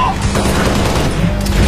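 Dense, continuous machine gun fire rattles loudly and close throughout a heavy firefight in Halo: Reach, with explosions blending into the din.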